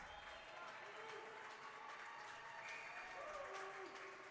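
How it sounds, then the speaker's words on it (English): A crowd cheers and applauds during overtime at a 14U Tier 1 youth ice hockey semifinal, a sustained, fairly distant roar with a commentator talking over it. "The crowd getting into it."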